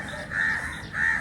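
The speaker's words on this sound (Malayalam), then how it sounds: "ഇത്രയും കാക്കേൻ്റെ ഒച്ചപ്പാട് കേൾക്കുന്ന എനിക്കറിയില്ലായിരുന്നു" Crows caw loudly near a house, two drawn-out harsh calls in quick succession over a faint background, with no voices.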